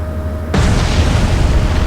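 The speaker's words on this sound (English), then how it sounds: "Our torpedo will hit." A torpedo strikes a U-boat in the Atlantic Fleet naval game, bursting suddenly into a loud, sustained, rumbling explosion that fills the remaining moments after a quiet start.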